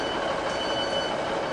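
A Class 156 diesel multiple unit at Manchester Piccadilly station gives a steady, loud broadband rumble with faint tonal whine, continuous throughout with no talk.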